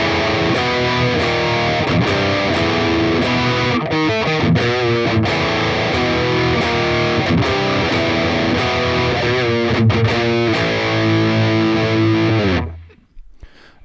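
A heavily distorted electric guitar plays the post-chorus riff of a song, loud chugging power chords with sharp palm-muted stops, ending abruptly and cutting to near silence.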